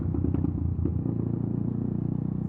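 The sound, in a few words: motorcycle loud exhaust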